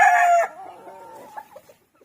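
A Sweater-breed gamefowl rooster crows once, loud and close, a strong opening burst that fades into a trailing, wavering tail with no talk.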